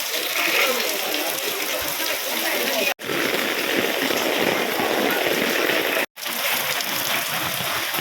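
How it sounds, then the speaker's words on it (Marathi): Steady rain pours down outdoors, a loud, dense hiss that runs unbroken apart from two short cuts. "तर आता चालू झालेला आहे मस्त असा पाऊस"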